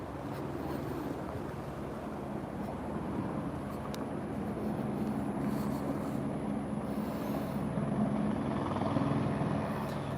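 A firefighting helicopter flies over a wildfire near Pell Road in Osteen, Florida, its rotor and engine forming a steady, dense roar that fills the whole stretch without a break, swelling slightly toward the end.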